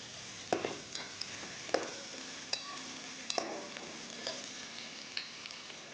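Green chilies, chili powder, mint and coriander leaves sauté for quail biryani in a pan, a soft steady sizzle broken by sharp, irregular clicks of a spoon scraping and stirring, close by with no talk.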